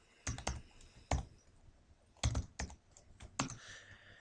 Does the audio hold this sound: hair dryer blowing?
no